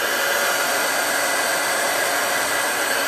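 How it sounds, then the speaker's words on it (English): A heat tool blows hot air steadily to dry paint, a constant loud whooshing hiss with a fan whine and no breaks or voices. "I'm just going to hit it with the heat tool to dry it"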